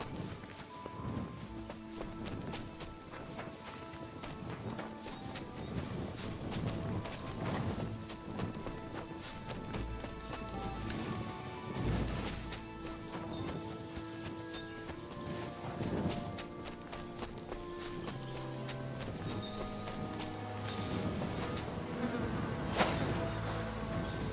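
Steady hoof clip-clops of a horse walking in woods in the game Kingdom Come: Deliverance II, set against a dense wash of buzzing insects and layered background sound throughout.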